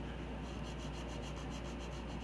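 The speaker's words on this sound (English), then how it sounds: "I went around and just hand sanded all the edges" Hand sanding along the edges of a wooden maple leaf carving, a steady continuous rubbing of abrasive on wood with a faint rhythmic scratch, close and alone.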